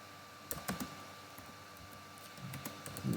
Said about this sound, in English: So now I need to start typing my query.